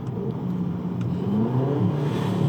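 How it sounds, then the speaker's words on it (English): A VW Polo R-line engine revs up during a manual downshift, a steady mid-pitched engine drone that rises and swells in pitch, close and loud with no talk over it. "Check how snappy it is when I downshift."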